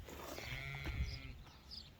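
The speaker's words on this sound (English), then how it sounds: "that sheep's not content, I want some sheep pellets" Sheep bleat at close range in an outdoor setting, a broad wavering cry rising over steady background noise with a second fainter call near the end.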